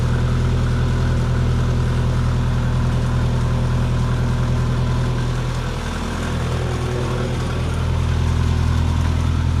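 A car's engine drones steadily from inside as the car is driven, a loud low hum that dips briefly in the middle before picking back up.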